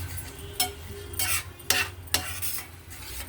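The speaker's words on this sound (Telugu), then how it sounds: "ముందు ఉల్లిపాయలు అవి కొంచెం కలిపేస్తాను." Onions with salt, chilli powder and turmeric being stirred in a cooking pot, giving a few distinct scraping strokes of a spoon against metal over a faint, steady sizzle, close and fairly quiet with no voices.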